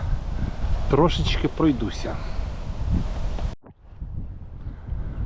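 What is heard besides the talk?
wind outdoors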